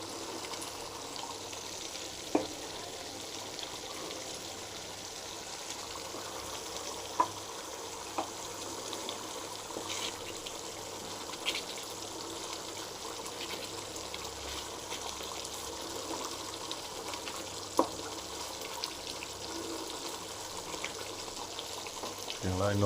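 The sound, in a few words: coconut milk cooking down in a pan until oil separates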